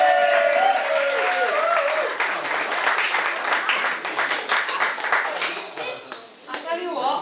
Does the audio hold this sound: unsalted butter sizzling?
no